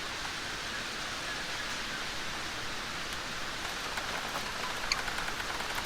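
Pouring rain falls steadily in a woodland storm, a soft, even hiss of drops with faint scattered patters near the end, fairly quiet and uninterrupted, with no voices.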